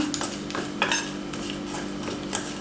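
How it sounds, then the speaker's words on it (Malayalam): Chili powder and salt mixed in a bowl produce a few light clinks and scrapes of a spoon against the bowl, close and brief, with no talking. "ഇത്രയും ആഡ് ചെയ്തിട്ട് നമുക്കൊന്ന് മിക്സ് ചെയ്യാം"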